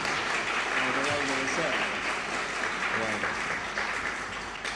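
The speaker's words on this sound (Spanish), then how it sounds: "Un aplauso, por favor, para comenzar la clase." An audience at a lecture applauds steadily and fairly loudly for several seconds, with a voice speaking over the clapping.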